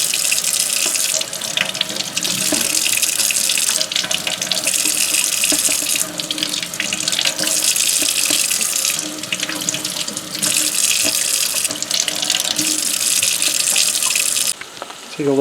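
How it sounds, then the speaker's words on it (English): Tap water runs steadily into a sink as food is rinsed on a back step, a continuous close gush broken by short pauses and splashes as items pass under the stream. "just rinse these off with water"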